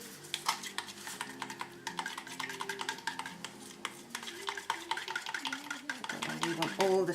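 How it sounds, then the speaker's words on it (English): A stick blends a shimmery soap mixture in a container, giving quick repeated scraping and tapping strokes that build toward the end, recorded close, with some faint background voice. "Let me just get a stick for this so I can blend it properly."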